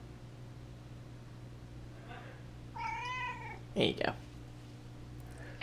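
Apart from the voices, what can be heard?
cat meowing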